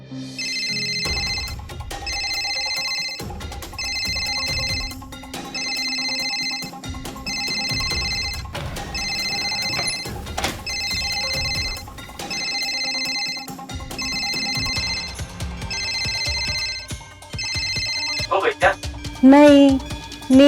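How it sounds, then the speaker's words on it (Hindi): A phone rings with an incoming video call, its electronic ringtone repeating in steady regular bursts for many seconds, loud and close, with people talking over it. "अब ये वीडियो कॉल क्यों कर रहा है?"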